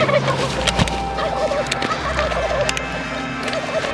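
A flock of wild turkeys calls and gobbles outdoors, a busy chorus of clucks and gobbles at moderate distance with a few sharp clicks and a low background rumble.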